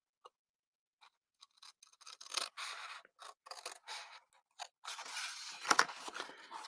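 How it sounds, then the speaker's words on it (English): Scissors cutting along the score lines of card in a clover-themed craft class, giving scattered snips and scraping rasps that grow denser and louder toward the end, close by with no talking. "We're going to cut right down that score line."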